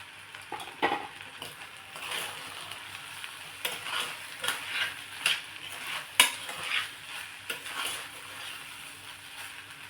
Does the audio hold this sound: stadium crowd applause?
no